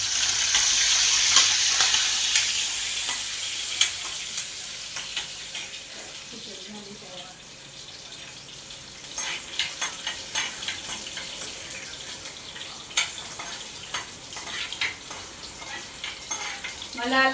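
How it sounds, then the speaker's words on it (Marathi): Mustard seeds, cumin, chili and garlic tempering in hot oil, a bright crackling sizzle at first that eases into quieter spitting with sharp pops and occasional utensil clinks, faint running water and brief voices in the background. "आता राई जिरंची आधी फोडणी दिली"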